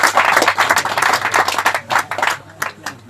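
A church congregation at a live fasting service, with preaching in Quechua, claps hands loudly and close by in a brisk, rhythmic burst that thins out toward the end.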